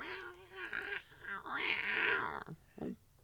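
A human voice imitates a screaming cat with a drawn-out, wavering, strained yowl that rises into a loud sustained screech, then breaks off into shorter cries, close and alone.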